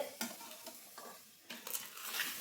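Rice is stirred in a cooking pot for tomato rice, quiet scraping and shuffling with a faint sizzle and a few light clinks of the spoon against the pot.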